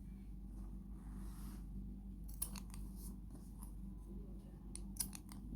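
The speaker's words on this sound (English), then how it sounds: "So at this point you'd have to start to cut the loops with your scissors like that." Scissors snip through the yarn loops of a crochet tassel, giving two crisp, close cuts over a steady low hum of room noise.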